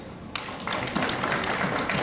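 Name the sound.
audience applause at assembly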